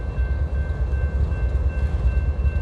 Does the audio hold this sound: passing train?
yes